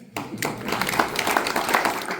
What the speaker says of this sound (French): Mais applaudissez quand même pour elle.